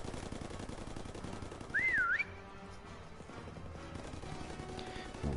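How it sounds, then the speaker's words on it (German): A single sliding whistle blast in the Call of Duty WWII video game, loud and clear for about half a second, rising and falling in pitch over steady background gunfire and battle noise. "Und wieder gepfeift."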